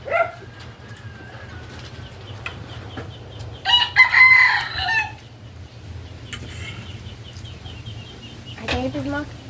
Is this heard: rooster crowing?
yes